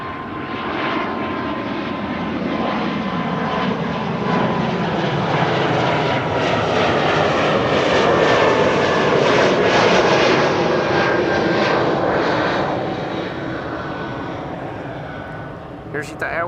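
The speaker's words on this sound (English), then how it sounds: "Here's ITA Airways to Milan, the Bombardier C Series 100." An ITA Airways Bombardier C Series 100 jet bound for Milan roars past at Amsterdam Schiphol, a loud sustained engine roar that swells and fades over many seconds while a person talks.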